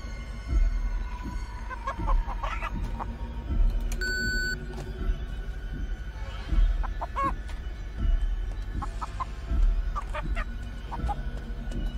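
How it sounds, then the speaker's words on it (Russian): Chickens clucking close by in short, repeated bursts of cackles over steady background noise, with periodic soft thumps and no talking. "вот это нормальная курица"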